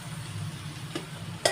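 Chicken pieces tipped onto well-browned onions in a hot pan for a chicken curry, giving a steady low sizzle with a couple of sharp clinks and a brief louder burst near the end as the pan is stirred.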